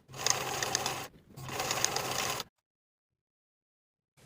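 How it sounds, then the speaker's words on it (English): A sewing machine topstitches seam allowances on fabric pieces in two steady runs of about a second each, separated by a brief pause, then falls silent; close and quiet, with no talking. "Then we can top stitch the seam allowances in place from one side to the other for both pieces."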